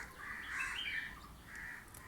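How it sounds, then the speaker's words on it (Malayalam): Small birds chirp and twitter in a yard on a hot summer evening, a cluster of thin, high calls rising and falling at moderate distance with no voices. "മുറ്റത്ത് കുറച്ച് കിളികളും ബഹളമൊക്കെ ഉണ്ട് കേട്ടോ"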